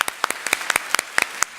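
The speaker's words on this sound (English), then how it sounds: "So give everyone a round of applause." Sparse, scattered claps from a small audience at a children's Christmas science lecture on magma, about a dozen separate sharp hand claps at uneven intervals, fairly close and moderately loud, with no continuous roar of a full crowd.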